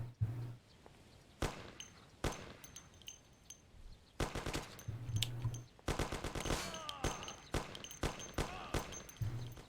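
Tommy gun bursts in the video game Mafia, sharp rapid volleys of automatic fire mixed with single shots and clanks, loud and close, coming in repeated clusters.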